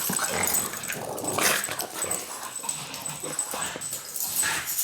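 A dog growls and snarls as it bites during play, giving close, rough, uneven growls with short whimpers mixed in, while a person talks briefly over it.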